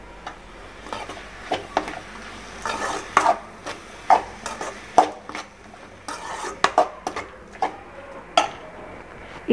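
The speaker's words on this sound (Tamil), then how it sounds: "உப்பு போட்டு நல்லா வந்து மிக்ஸ் பண்ணி விடுங்க." A spoon stirs a salted tomato mixture for tomato rice in a pan, with repeated close scraping strokes and clinks against the metal over a low sizzle.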